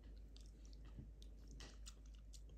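Someone chewing soft marmalade sweets with thin skins makes quiet, close, wet squishy bites and smacks, steady and alone without talk.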